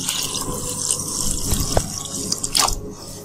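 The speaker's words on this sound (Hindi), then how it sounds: "अब हम इसे अच्छे से वॉश कर लेंगे 4 से 5 पानी से" Urad dal being washed in water in a kitchen sink, with running tap water, drips and sloshing as the lentils are rinsed, close and continuous with a few sharper splashes.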